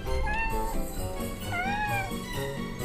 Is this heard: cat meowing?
yes